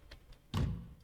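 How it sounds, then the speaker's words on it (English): A door shuts with a single dull, heavy thunk in the Corpse Party video game, preceded by a couple of faint soft taps against a quiet, low ambient background. "Door shut."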